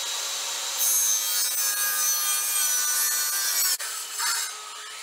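A hand saw cuts through a wooden barrel stave in continuous rasping strokes, loud and close, with a brief break near the end before the sawing resumes.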